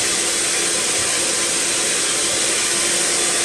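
An electric beater whips eight egg whites for coconut macaroons, giving a loud, continuous high-pitched whine close to the mic with no pauses or talk.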